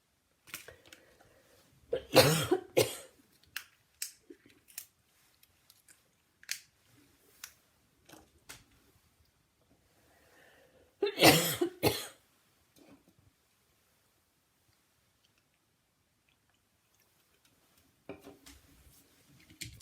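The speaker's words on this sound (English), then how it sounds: "I know I'm not the only one with a cough." A few harsh coughs in two separate bursts, close and fairly loud, with quiet rustling and small clicks in the pauses between them.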